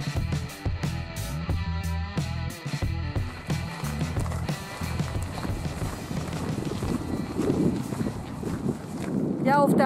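Gusty wind buffets the microphone in low rumbling bursts over open heathland, growing stronger toward the end, with clopping footsteps and a voice speaking early on.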